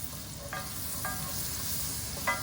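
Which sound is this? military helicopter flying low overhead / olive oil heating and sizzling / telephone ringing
olive oil heating and sizzling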